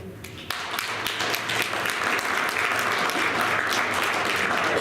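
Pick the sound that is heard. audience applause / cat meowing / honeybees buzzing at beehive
audience applause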